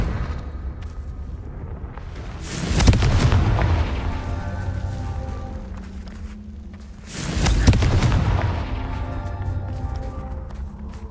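Confringo fire spell explosions in the Hogwarts Legacy video game: two loud booming blasts a few seconds apart, each with a sharp crack and a rumbling, crackling tail that fades slowly, over faint background ambience.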